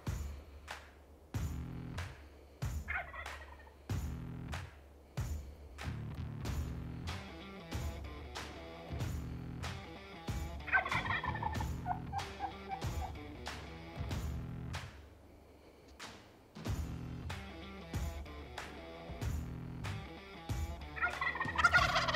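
Wild turkeys gobble repeatedly, rapid rattling calls sounding again and again at close range, with brief pauses between bursts and no talking.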